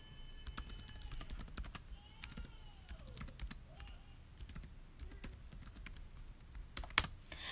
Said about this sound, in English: don't mind the tapping of my computer